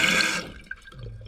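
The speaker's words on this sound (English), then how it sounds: "I'll let the water come back up now." A toilet tank refills with water after a flush, a brief close hiss of rushing water that quickly drops to a quieter trickle and gurgle.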